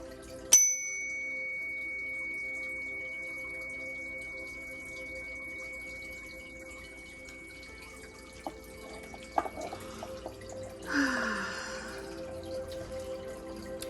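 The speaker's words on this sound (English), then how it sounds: "I am going to ring the bell and get started" A bell is struck once and rings out with a long, clear, sustained tone that slowly fades, followed later by faint clicks and rustling.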